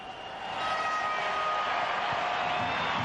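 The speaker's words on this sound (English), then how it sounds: "Give yourselves a big round of applause" Large stadium crowd at a 1994 Canada vs Brazil football match applauding and cheering in a steady, dense wash of sound that swells in after a brief quieter start.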